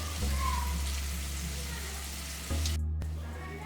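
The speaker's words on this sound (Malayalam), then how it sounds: "നമുക്കിതിനെ ഒന്ന് മഞ്ഞൾപ്പൊടി ഒന്ന് നല്ലവണ്ണം മൂപ്പിച്ചെടുക്കാം." Turmeric powder sizzling in hot oil as tempering for a Kerala coconut fish curry: a steady close frying hiss with a brief stir or clatter near the end.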